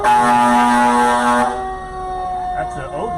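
A loud Odin Fire Protection District fire engine siren at the Centralia Halloween Parade 2025 blares with steady horn-like tones, then shifts to a wavering wail as a voice speaks faintly underneath.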